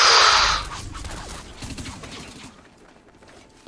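Gunfire in the PS3 shooter Dust 514: a loud burst of shots at the start that fades into a rumbling, scattered tail and then near quiet.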